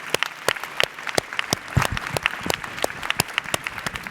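Audience applause at a statistics awards lecture, a steady round of distinct, fairly close hand claps in an irregular rhythm, clear and unaccompanied by talk.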